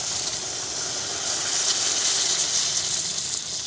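Water poured into spiced masala with chopped tomato frying in a pan for a kuche fish curry, giving a loud, steady hiss and sizzle that holds unbroken throughout.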